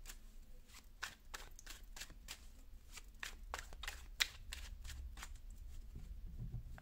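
Tarot cards are shuffled in a rapid series of soft riffling flicks, close and quiet, with the rhythm repeating steadily for several seconds.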